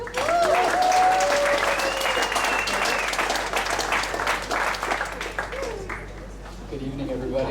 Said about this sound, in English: please give a warm of applause for Kevin